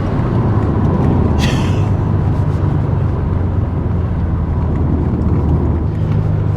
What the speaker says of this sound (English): You can just hear the actual induction, the HKS intake just sucking in the air, and the moment you let off the throttle, it dumps it